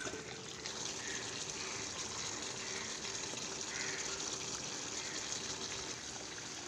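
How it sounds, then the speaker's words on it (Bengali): Hot water is poured into a simmering dahi methi chicken curry with fried potatoes, a faint, steady gush and trickle of liquid running for several seconds without voices. "জল দিয়ে দেব"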